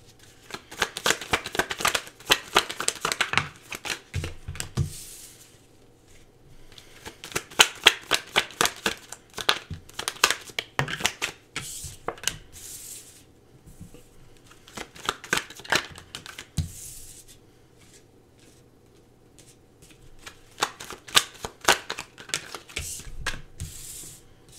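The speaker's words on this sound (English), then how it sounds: "just give me a moment to pull some cards" Tarot cards being shuffled and drawn by hand, rapid papery riffles and flicks in three close bursts separated by brief pauses, with no talking.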